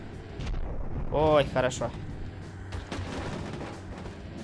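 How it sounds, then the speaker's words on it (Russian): An explosion in the video game Hill Zombie Racing Earn To Climb, a booming burst with rumbling debris under a speaking voice, followed by continued game noise. "Сейчас будет мега-взрыв."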